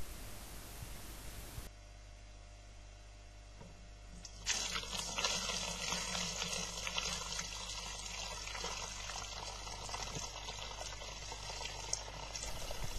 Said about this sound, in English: I'm pouring our cooled wort into a sanitised brew bin through a sieve to collect all the solids